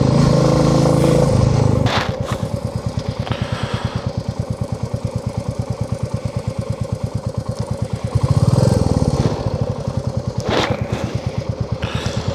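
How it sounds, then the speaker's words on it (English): A motorcycle engine running during a ride, chugging with a rapid, even pulse close by, with a brief rise in revs midway and a few clatters, while no one speaks. "It's nice to let that bike run."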